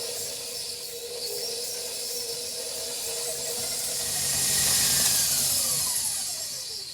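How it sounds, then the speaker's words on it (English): An electric mixer beats butter with infused sugar for a gluten-free lemon blueberry loaf batter, a steady, continuous whirring hum that swells slightly toward the middle, close and alone without talk. "we're going to beat this up until the butter is nice and light and fluffy."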